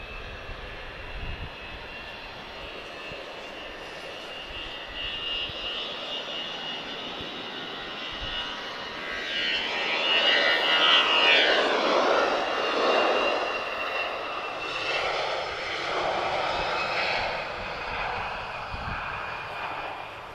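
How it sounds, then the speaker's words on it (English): An EasyJet airliner departs Lisbon Airport for Paris, its jet engines a broad roaring rumble that swells to a peak midway and then slowly recedes into the distance over about twenty seconds. "This is EasyJet off to Paris Charles de Gaulle"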